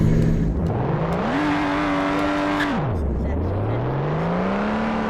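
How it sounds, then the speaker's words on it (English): A Lotus car's engine revs up, its note climbing, holding high for about a second, then dropping back to idle before slowly rising again, loud and close with a steady mechanical drone throughout. "We'll do a little rev."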